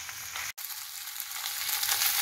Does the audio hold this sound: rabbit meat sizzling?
yes